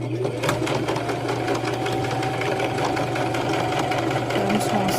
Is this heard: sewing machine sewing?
yes